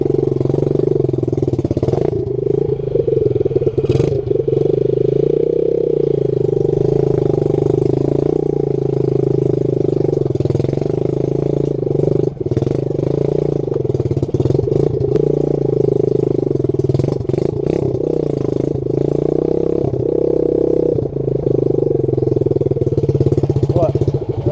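A pit bike motorcycle engine runs continuously nearby, a steady mid-pitched drone with small surges and a few clicks and knocks over it, loud and without talk.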